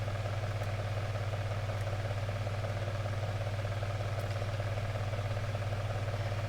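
In the Spirit of the North 2 video game, a bird gives off a steady droning hum like an idling engine, continuous and even throughout with no talking.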